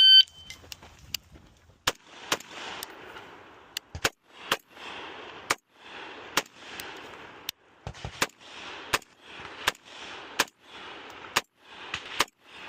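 Suppressed gunshots on a shooting course, roughly two dozen sharp cracks at an irregular pace, each followed by a hissing, rattling tail, heard with no talking.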